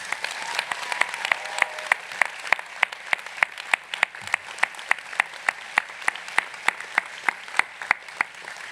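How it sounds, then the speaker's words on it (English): Families and guests at a university graduation ceremony give a sustained round of applause, a dense wash of many hands clapping with a rhythmic thread of individual claps, moderately loud and continuous throughout. "please join me in giving your families a big round of applause."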